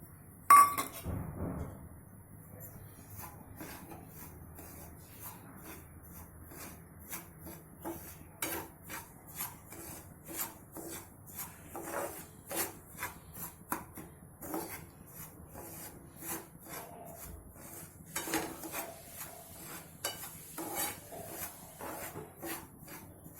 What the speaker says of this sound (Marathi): गॅस सुरू करायचा, रवा भाजायला घ्यायचा.